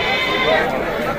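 Goat bleat at a crowded goat market in Shirpur, a brief wavering animal call amid dense crowd chatter and bargaining voices.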